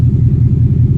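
Yellow 2016 Ford Mustang GT California Special V8 idling with a deep, steady, close low rumble that pulses evenly throughout, with no voices over it.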